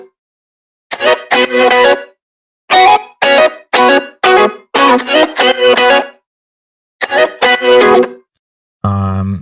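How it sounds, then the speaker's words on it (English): Processed electric guitar playing a choppy, rhythmic pattern of short bright chords in bursts with brief gaps, loud and close, ending on a lower sustained tone, with no talking. "It's me playing on the guitar."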